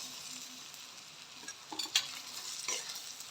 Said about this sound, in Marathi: ही वाटलेली डाळ आता आपण याच्यामध्ये परतणार आहोत।